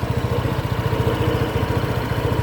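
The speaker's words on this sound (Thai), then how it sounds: "สตาร์ทเครื่องแล้วนะครับนี่เครื่องเงียบมากนะครับ" Honda PCX 160 ABS scooter (2023) idling after a start, a quiet, even low putter with a regular pulse throughout, near and alone without talk.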